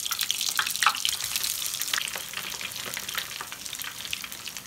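Pieces of food sizzle and crackle in hot oil at home, a steady close frying hiss with scattered pops, no talking.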